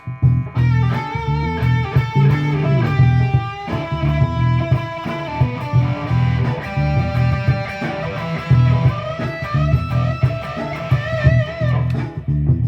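Guitar lead lines in the minor pentatonic scale weave over a bass-heavy classic rock backing track, a flowing stream of picked notes that fades out at the end.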